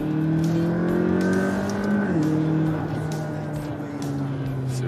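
A McLaren 750S Spider's V8 revs loud and close, its pitch climbing and then easing as the throttle shifts, with a steady mechanical drone throughout.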